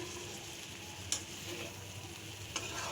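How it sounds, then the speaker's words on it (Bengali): Curry with dried fish (shutki) being stirred in a pan, a soft steady sizzle underneath with two brief scraping knocks of the spoon, fairly faint, no talking. "হালকা একটু নেড়ে চেড়ে দিয়ে তরকারি কিন্তু হয়ে গেছে"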